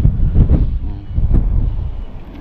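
Strong wind buffets the microphone outdoors during fishing, a loud continuous low rumble with gusty surges throughout.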